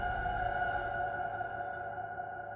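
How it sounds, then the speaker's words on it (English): A DJ space filter smears a music track into a blurred, washed-out drone with steady sustained tones, fading gradually toward the end without any talking. "So here's the space filter over here."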